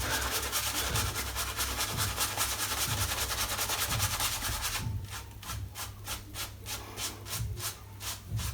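A shaving brush works Gin and Tonic shave soap into a lather with a steady wet rubbing and swishing that stays close. Partway through it turns into quicker, choppier strokes.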